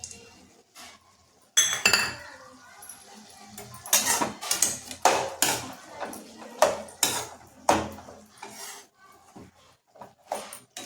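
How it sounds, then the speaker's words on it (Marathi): Fenugreek bhaji stirred in a pan with salt, a quiet series of irregular scrapes and clinks of a utensil against the pan, some louder strokes in bursts, with no talking. "मीठ टाकून पुन्हा खालीवर करायचं छानपैकी"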